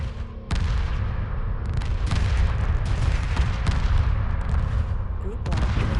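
Rockets firing in the space strategy game Homeworld, a dense continuous barrage of booming launches and blasts that stays loud throughout.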